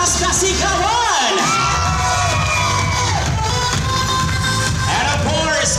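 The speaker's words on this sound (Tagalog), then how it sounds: "marinig naman po ako ng inyong malakas na palakpakan, sabayan nila na malakas na sigawan!" Wedding guests at a celebration cheer, shout and whoop loudly, with high-pitched cries rising over a dense crowd roar and some applause mixed in.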